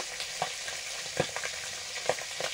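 Bay leaf, dried chili and panch phoron spices sizzling in hot oil for a lentil dish, a steady close frying hiss with small pops and crackles and no talking.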